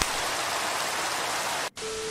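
Steady rain in Minecraft hisses as a dense, even wash, briefly cutting out near the end before resuming with a faint tone.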